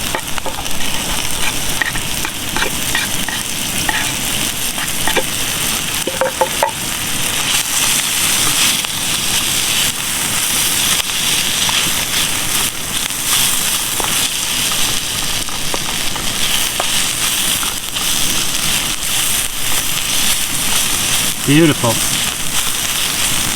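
Onions, ginger and garlic sizzle and fry steadily in a pan, a continuous close crackle with occasional stirring, while a person speaks briefly over it.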